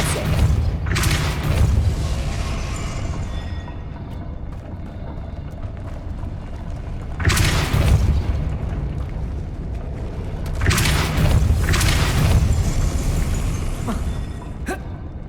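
Depulso force spells cast in Hogwarts Legacy on PC land as heavy whooshing blasts, one near the start, one in the middle and a quick pair toward the end, each rising out of a steady rumbling ambience.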